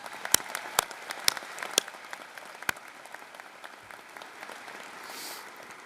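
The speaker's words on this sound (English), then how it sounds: "that certainly deserves another round of applause" Applause rings out at a veterinary medicine commencement ceremony, a few sharp distinct claps first and then a softer, scattered patter of clapping from a distant crowd that tapers off.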